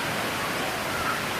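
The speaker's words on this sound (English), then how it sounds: "waterfall way back up in the steep canyon, and it just rained recently, so it's really full of water" A rain-swollen waterfall deep in a steep canyon roars as a steady, dense broadband rush, constant and unbroken throughout with no other sounds.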